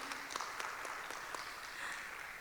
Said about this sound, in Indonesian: Boleh tepuk tangannya teman-teman?